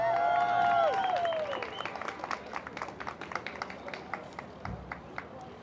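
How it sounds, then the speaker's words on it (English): Audience applause for a Tennessee Teacher of the Year at an El Paso event. A clear tonal sound comes first, then scattered claps that thin out and fade toward the end. "let's go ahead and give her a big round of applause"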